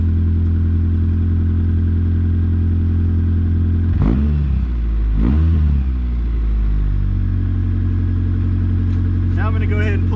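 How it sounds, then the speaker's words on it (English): A Mazda 323 car or Ninja 250 motorcycle engine idles with a steady low rumble, then revs sharply twice near the middle before settling back to idle; a faint voice is briefly heard near the end. "Before it gets too hot, I'll rev it up."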